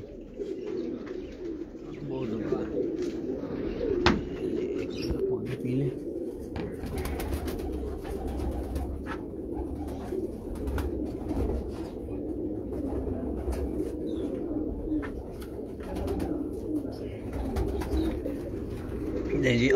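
Racing pigeons in a Karachi breeder's loft coo continuously, a low, soft, murmuring chorus with brief flutters and clatters, heard fairly faintly throughout.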